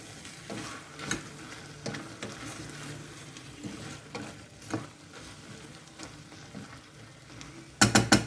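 A Tuscan bean stew sizzles softly in a pot as chili flakes are stirred in, giving a gentle steady frying hiss with occasional spoon scrapes and a few sharper clinks near the end.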